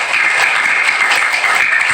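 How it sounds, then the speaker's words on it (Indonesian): Children and adults at a Quran school (TPQ) celebration applauding together, a dense steady wash of clapping, loud and close, with no gaps. "Tepuk tangan semuanya."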